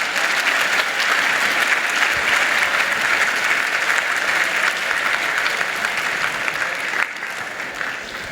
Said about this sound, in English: a quick round of applause for that point